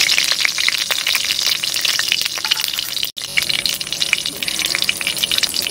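Spices for a tempering of chilli, garam masala and cumin hit hot oil in a village kitchen, making a loud, dense sizzle that crackles continuously and briefly drops out midway.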